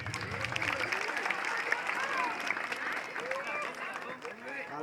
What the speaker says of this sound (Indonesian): Niki nak tepuk tangan pemeriah karya di Pura Dalam.